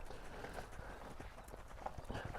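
A horse's hooves clip-clop steadily on the ground as it moves and changes direction on a lunge line, close by and moderately loud over a faint background.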